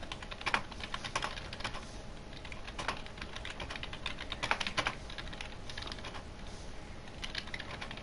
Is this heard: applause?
no